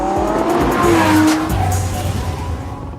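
A car driving away in the morning, loud and close, with engine roar and a brief tire squeal as it pulls out, then fading slightly.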